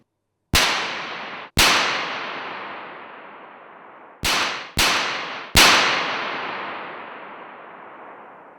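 Five loud, sharp high-voltage spark cracks strike a model lightning rod in a high-voltage demonstration at the Deutsches Museum. The first two come about a second apart, then three in quick succession, each with a decaying ring-out and no talk.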